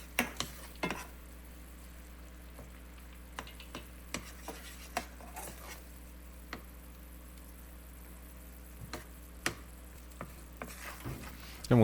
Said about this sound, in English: Just stir in that cream cheese until it melts.